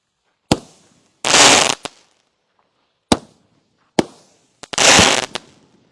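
A Noisy Boys 500 gram firework cake fires in bursts: sharp single pops followed by two longer crackling, hissing volleys, each ending with a quick bang, loud and close with no talking.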